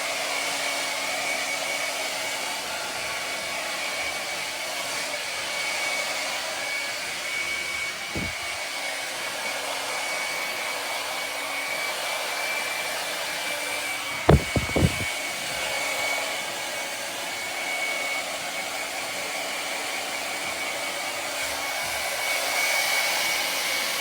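Hair dryer blowing hair dry during a haircut, a continuous loud whooshing drone for the whole stretch with a few brief clicks partway through.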